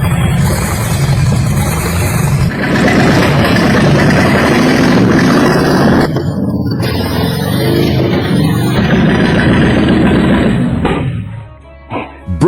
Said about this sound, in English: Brothers, it started. The engine's running. So smooth.